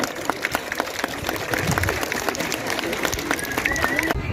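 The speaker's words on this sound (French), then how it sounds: "Vous pouvez lui faire un bel applaudissement." Audience applause at an outdoor bird of prey show in Crolles, clapping spread broadly and fairly close, with voices and crowd murmur mixed in throughout.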